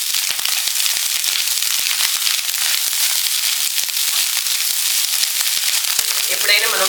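Chicken fried rice frying hard in a pan over a high gas flame, a loud steady crackling sizzle with scraping stirring strokes throughout and a brief metallic clatter near the end.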